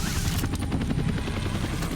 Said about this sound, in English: And Vadix swooping in on his helicopter